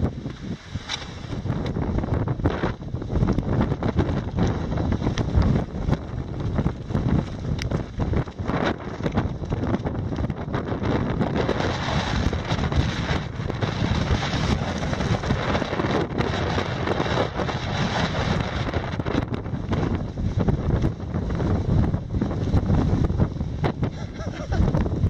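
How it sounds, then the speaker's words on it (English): Strong wind roars continuously against the microphone on an Appalachian Trail hike, a loud, steady buffeting rush with gusty surges and no pauses throughout. "That's windy."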